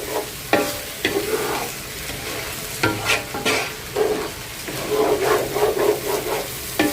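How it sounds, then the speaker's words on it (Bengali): Rice frying in a pot with oil, stirred firmly: irregular scraping and rustling strokes over a soft sizzle, close up with no voices. "চালটা দিয়ে এখন হচ্ছে ভালো মতো কষাবো চালটাও কিন্তু ভালো মতো একটু ভাজতে হয়"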